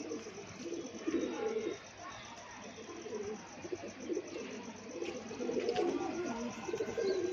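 Pigeons coo in soft, repeated rolling phrases with a few light chirps, close but fairly quiet against low background noise, with no talk heard.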